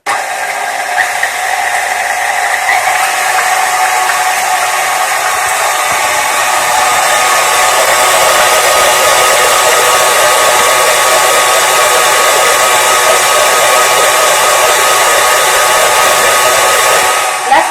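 An electric mixer whips egg whites until foamy for a French sponge cake, giving a loud, steady, high whir that runs without a break and has no talking.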